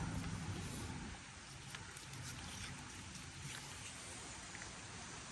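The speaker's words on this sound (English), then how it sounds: "The rain sucks, Buck." Rain falls steadily as a soft, constant broadband patter, with a low rumble underneath.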